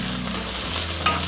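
Carrots, beans and colored capsicum get stirred in a hot pan, a short scrape of utensil against metal over a light sizzle, alone and close.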